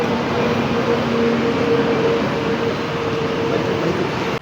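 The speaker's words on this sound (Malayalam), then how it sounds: "ഞാൻ വന്നിറങ്ങിയ മെട്രോ ആണ് ഇത്." A Chennai metro train at Guindy station gives a steady, loud rumble that fills the space for the whole stretch, with a faint tonal hum running beneath and no clear voices.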